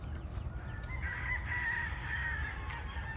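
A rooster crows over a flock of chickens and young pullets on an outdoor range. The drawn-out call stands clear of a steady background rumble and lasts a couple of seconds.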